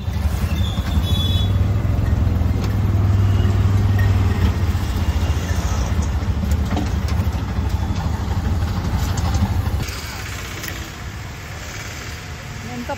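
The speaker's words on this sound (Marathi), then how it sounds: "तर आता बसतो आम्ही रिक्षात" An auto rickshaw rides through Pune city traffic after rain, its small engine droning steadily and loudly throughout. The drone steps down to a quieter idle near the end.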